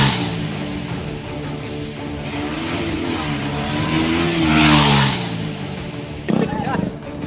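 Young men doing street stunts rev a motorcycle engine, its pitch climbing and falling in long loud sweeps with a sharp burst near the end, while a voice talks over it.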